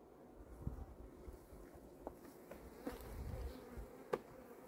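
Honey bees buzz inside a well-fed hive prepared for winter, its frames filled with stores: a dense, steady drone of many insects, close and moderately quiet, with no voices.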